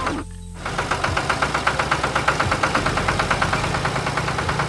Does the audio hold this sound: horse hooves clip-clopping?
no